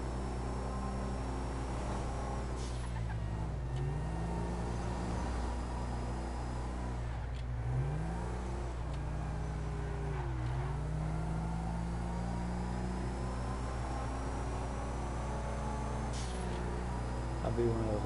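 A turbocharged wagon in GTA 5 drives on, its engine droning steadily with repeated gear shifts: the pitch climbs, drops and climbs again several times, with a constant low hum underneath.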